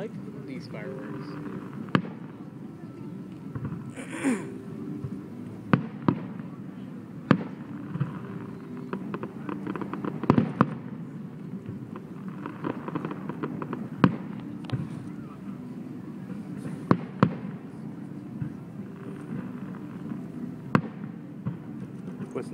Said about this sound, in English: I like these fireworks.